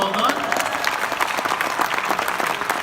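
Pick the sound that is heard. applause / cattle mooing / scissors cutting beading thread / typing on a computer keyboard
applause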